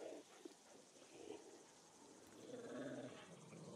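Several malnourished, mange-ridden dogs growl low and steadily from inside a pen in the game Hunt: Showdown 1896, a rough rumbling that rises slightly toward the end amid faint ambient noise.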